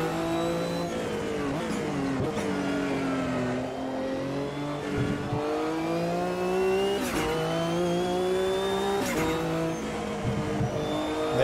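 A Mercedes-Benz Group C race car in Automobilista 2 roars loudly and continuously, its engine note climbing through gears with several sharp shifts, steady and close throughout with no talk.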